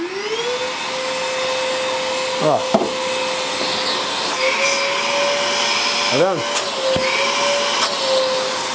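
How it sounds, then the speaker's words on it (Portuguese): An Einhell vacuum cleaner runs in a close, steady motor whine with a rising pitch at startup. Someone talks over it briefly and some clunks and handling noises are heard. "E aqui ele é aspirador."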